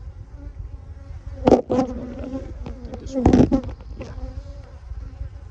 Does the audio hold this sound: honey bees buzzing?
yes